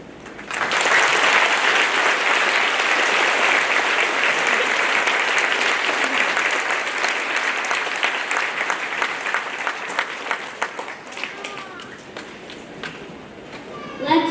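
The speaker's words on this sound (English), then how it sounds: "Let's give one more round of applause for Brigadier General Bellinger." Applause from the audience at a Veterans Day celebration: loud, sustained clapping by many hands that thins toward the end into scattered claps.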